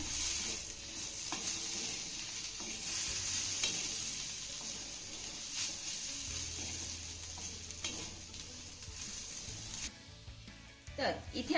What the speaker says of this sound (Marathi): हा घातलेला लिंबाचा रस आपल्याला चांगला मिक्स करून घ्यायचा आहे